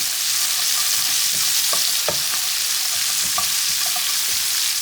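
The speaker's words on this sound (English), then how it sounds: "Just going to saute those onions" Onions sautéing in a pan over medium-high heat give a steady, close sizzle, with scattered clicks and scrapes as they are stirred, for a British Indian restaurant-style butter bean masala.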